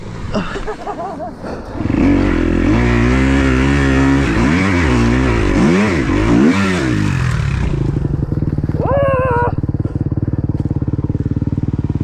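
An enduro dirt bike in slippery woods, its engine loud and close, revving hard and wavering as the rear wheel spins, then settling to a rough idle with a brief higher rev.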